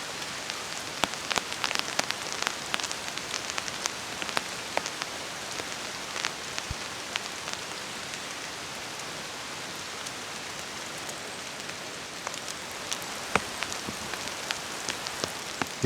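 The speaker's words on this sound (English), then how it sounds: "It has rained lightly throughout the night. I'm completely dry and the forest has become damp." Light rain patters steadily over a damp autumn forest campsite, a soft continuous hiss scattered with sharper individual drop ticks, fairly quiet and even throughout with no voices.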